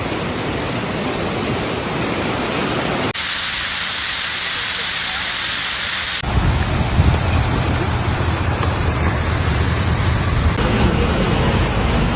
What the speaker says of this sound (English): This was not rain, it was a deluge.